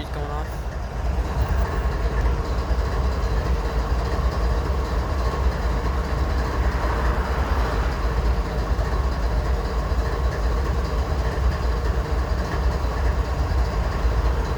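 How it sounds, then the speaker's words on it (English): A CSX intermodal freight train rumbles steadily at Brown Street in Tullahoma, Tennessee, a close, constant low roar of rail cars that continues unbroken throughout. "I wonder when this train's gonna move."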